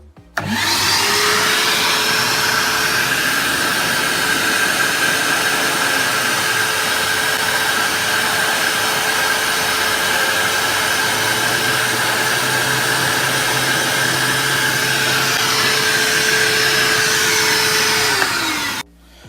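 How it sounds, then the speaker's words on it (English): A shop vacuum connected through a cyclone dust separator roars steadily and loudly for the whole stretch, starting abruptly and cutting off at the end, with a constant whining hum. "I connected the shop vac to the Cyclone Dust Connector and connected an old vacuum hose to do the dust collection with."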